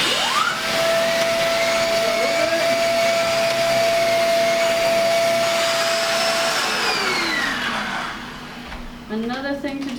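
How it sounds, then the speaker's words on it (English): A vacuum cleaner fitted with a hose attachment runs loudly and steadily on a couch in a beach suite, its motor whine shifting pitch as the nozzle moves over the cushions before the suction cuts out near the end. "So don't be afraid to take the couch completely apart and then vacuum it."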